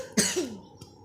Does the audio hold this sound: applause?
no